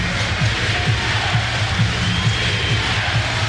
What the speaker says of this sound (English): the Thunder Sticks are alive and well